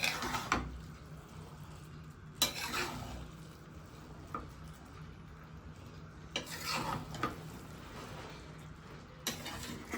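Khichuri being stirred in a cooking pot, quiet scraping and clinking of a utensil against the metal in a few separate bursts with a faint background sizzle, no talking.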